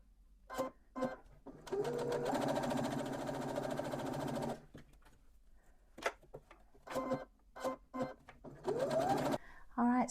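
Sewing machine chain-stitching fabric pieces for a small travel jewellery and medication pouch, a steady mechanical whir for a few seconds followed by short bursts of stitching, close by with brief pauses between runs.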